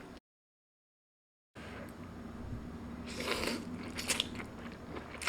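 Shirataki noodles eaten mukbang-style with metal chopsticks, heard as soft close-up chewing and slurping with brief crunchy bites and wet clicks after a short silence.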